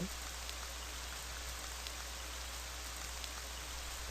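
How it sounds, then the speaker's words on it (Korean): Steady rainfall in a video game, a constant even hiss of rain on surfaces with faint scattered drops, soft and continuous throughout with no talk. "여기는 비가 오고"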